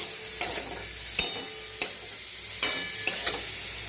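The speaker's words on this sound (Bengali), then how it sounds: "পনিরটা ভেজে নিচ্ছি" Paneer frying in a home kitchen pan, a steady sizzle punctuated by about six sharp metallic taps and scrapes of a spatula at irregular intervals.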